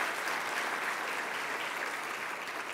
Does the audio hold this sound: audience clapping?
yes